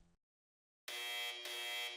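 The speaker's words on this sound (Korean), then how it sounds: "경보음이 작전실을 깨웠습니다." A sharp electronic alarm buzzer sounds in a military operations room, kicking in abruptly after a brief silence and droning loudly and steadily with one short dip before resuming.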